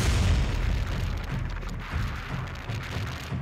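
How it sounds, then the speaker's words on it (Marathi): Firecrackers burst at a large Holi-time welcome celebration with a vehicle convoy, crowds of supporters and dhol drummers, making a dense, loud, continuous crackle and rumble that fills the whole moment without clear separate bangs. "फटाक्यांची आतषबाजी"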